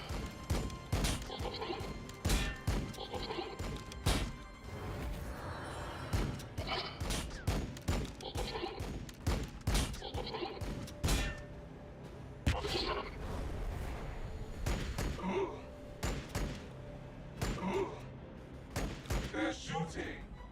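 Gunfire in the Warhammer 40K Battlesector strategy game, a dense stream of sharp shots and crashing impacts that keeps going for the whole stretch with no pauses, loud and busy, with no voices over it.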